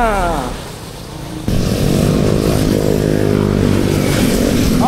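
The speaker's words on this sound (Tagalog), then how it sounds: "Daming motor!" Motorcycle engines drone and rev steadily as they pass close by on a Sierra Madre loop road, with a louder surge partway through and faint voices underneath.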